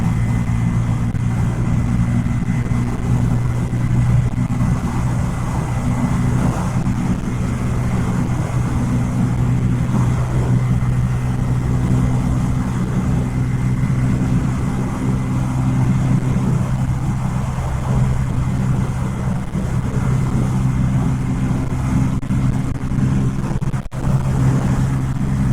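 A Bajaj Pulsar N250 motorcycle engine drones at steady speed on the road, a constant low hum with wind rush, close and unbroken with no talk.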